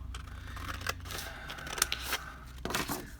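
Scissors snipping through paper for a stuffed baggy envelope, several crisp cuts in an uneven rhythm, close and clear over a quiet room.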